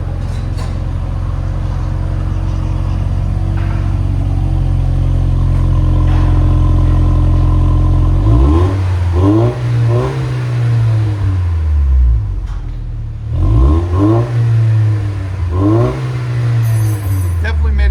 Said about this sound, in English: Toyota Tacoma 4-cylinder turbo with Black Widow, Angry Housewife, muffler swap